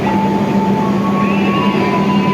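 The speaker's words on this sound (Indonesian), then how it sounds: "ini kereta api Malioboro Express barusan diberangkatkan teman-teman tujuan akhir Malang" Malioboro Express economy-class passenger train pulling out of the station, bound for Malang: a steady close rumble of rolling railcars with a sustained tonal hum and faint rising squeal, continuous and loud throughout.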